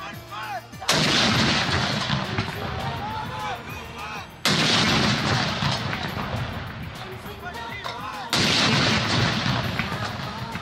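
A 21-gun cannon salute fired at Colonel Sher Khan Stadium in Peshawar for Pakistan's Independence Day: three loud, booming shots about four seconds apart, each trailing off in a long rolling echo.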